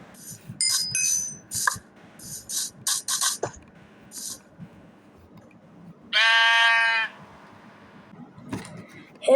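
A sheep bleats in the video game Craftsman, one loud drawn-out bleat standing out clearly after a run of short chirpy game effects.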